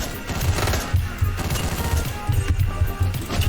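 Rapid gunfire from the top-down shooter Hotline Miami keeps up as a dense, loud barrage, overlapping shots and crashes over a pounding low beat.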